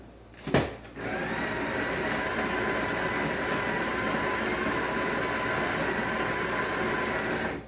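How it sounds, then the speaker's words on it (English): After a brief click, a coffee grinder grinding espresso beans whirs steadily and loudly for several seconds without a break, then cuts off. "the first step is I'm going to grind my coffee, espresso coffee"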